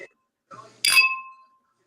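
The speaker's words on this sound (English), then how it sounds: "Ooh, that glass is a nice tonal quality." Single bright clink of a drinking glass struck once, ringing out briefly with a tonal ring-down, close and clear after a soft murmur.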